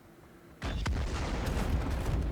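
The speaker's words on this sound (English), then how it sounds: "now we have a secondary explosion and now everything is destroyed" An explosion in the video game Star Citizen breaks in suddenly after a quiet moment, a sharp heavy blast followed by a sustained rumbling roar of destruction.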